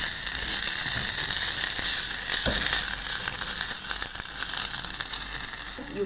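Beef strips frying and browning in a hot pan give off a steady, loud, bright sizzle that runs unbroken throughout, with a few faint clicks and pops mixed in.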